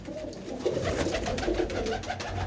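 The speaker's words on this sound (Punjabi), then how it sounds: "ਇਹ ਬਰਿੰਦਰ ਵੀਰ ਦੇ ਕਬੂਤਰ ਨੇ" Domestic pigeons in a village loft near Samrala, Punjab, coo softly in low, throaty bursts, several overlapping calls repeating close by against quiet background noise.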